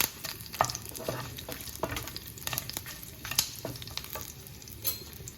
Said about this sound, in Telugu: కరివేపాకు వేసుకొని వేయించుకోవాలి